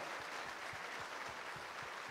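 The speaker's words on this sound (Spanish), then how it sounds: "¿Quién puede dar un aplauso al Señor?" A church congregation claps for God during a Spanish-language sermon, a dense, steady wash of many hands that holds level and fairly soft from start to finish with no voices on top.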